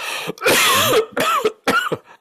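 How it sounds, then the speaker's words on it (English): Three short, harsh coughs close to the microphone, each a quick throaty burst separated by brief pauses. "I still have a residual cough."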